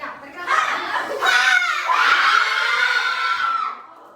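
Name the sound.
group shouting while exhaling in breathing exercise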